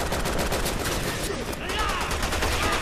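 Rapid automatic gunfire from a machine gun in the video game Resident Evil 6, a dense continuous rattle of shots running loud and steady through the whole stretch, with game noise layered underneath.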